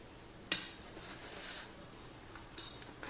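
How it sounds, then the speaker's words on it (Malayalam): A knife scrapes around a vattayappam in its metal pan, giving a sharp metallic clink and then soft, quiet scraping strokes close by, with no talk. "ജസ്റ്റ് ഒന്ന് നൈഫ് വെച്ചിട്ടൊന്ന് വരഞ്ഞു കൊടുത്താൽ മതിയേ"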